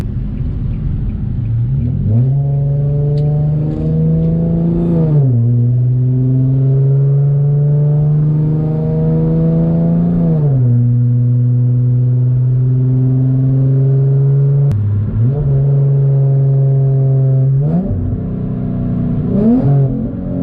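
Infiniti G37x engine pulling hard in second gear from a 40 mph roll, a loud steady drone rising in pitch in several sweeps, close and continuous with no talk.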